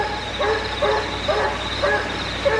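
Hounds bay and yip while chasing a fox around a hollow, their cries drifting in from a distance over a steady rustling background. Several short howls rise and fall, with no voices in the foreground.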